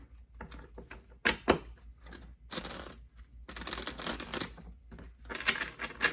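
Bursts of riffling and flapping as a deck of tarot cards is shuffled, several separate bouts with short quiet gaps between them, close up.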